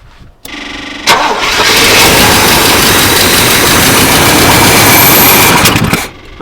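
An old squarebody truck engine cranks with a brief starter whine and catches almost at once, then roars loud and close at high revs for several seconds before cutting off abruptly.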